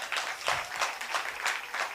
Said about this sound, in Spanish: quiero que deis un fuerte aplauso a Cristina Márquez de VoiceUp